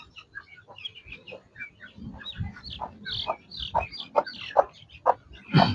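Chickens and young chicks clucking and peeping just after being let out, a busy stream of overlapping calls growing louder and denser toward the end, close by with no talk.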